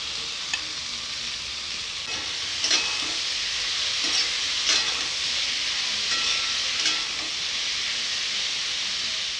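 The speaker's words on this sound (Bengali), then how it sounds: "তো এবারে আলুগুলো দিয়ে দিচ্ছি।" Thin-sliced potatoes fry in hot oil in a pan, a steady close hiss and sizzle running throughout with occasional stirring scrapes and sharper crackles, no voices.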